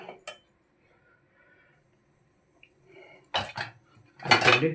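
A pressure cooker lid and metal pots clink while country chicken curry cooks on a gas stove. One brief clink comes first, then a quiet stretch, then louder clattering bursts near the end.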